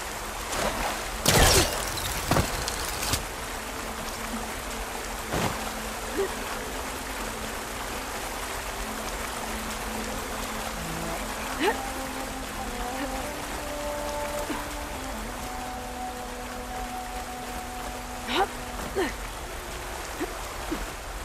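Waterfall and stream water in Horizon Forbidden West pour steadily as a constant broadband rush, with brief louder splashes early on and faint game tones layered beneath.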